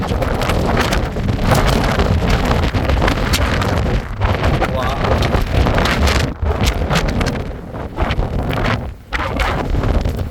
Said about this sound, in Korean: 열대 바람이 미친 듯이 부네요.